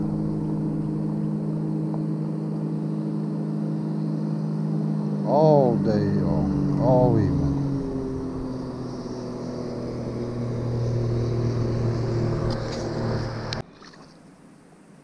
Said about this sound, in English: Here comes another one of them boat riders.